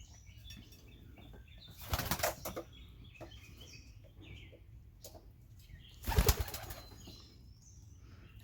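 Pigeons in a loft burst into flapping wings in two short flurries, close and sharp against a quiet, low background hum.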